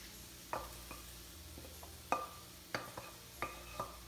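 Fried mushrooms and onions stirred into potatoes frying in a pan, a low sizzle under several distinct spatula scrapes and knocks at irregular intervals, close and without speech.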